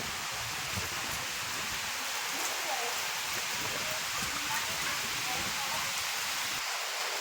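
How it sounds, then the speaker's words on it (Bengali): Heavy rain pours down in a dense, loud, unbroken roar of broadband hiss that holds steady throughout, with no voices heard over it. "বুঝতেই পারছেন কত জোরে বৃষ্টি হচ্ছে"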